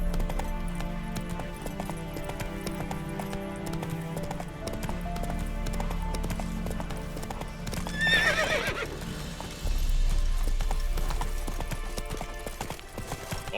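A horse galloping with rapid, steady hoofbeats and a brief loud neigh partway through, from The Witcher 3 video game, set under continuous game music and ambience.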